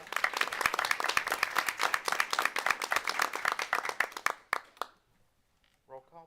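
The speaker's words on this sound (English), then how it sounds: "so we can clap for her as well" Attendees at a school board of education meeting clap together in a dense, steady round of applause for several seconds that stops abruptly, followed by brief quiet and a voice.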